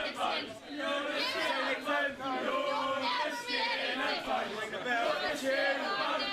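A wrestling crowd reacts noisily in an arena, a dense wash of shouting and chatter with scattered louder cries, steady and close throughout.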